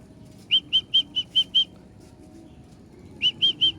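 A racing pigeon lands on a roof with two quick bursts of wing flapping, six sharp claps and then three more after a pause, close and distinct over a low background hum.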